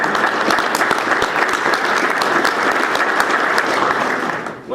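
A crowd listening to a county judge's speech breaks into loud, sustained clapping close by, holding steady for several seconds before tapering off at the end.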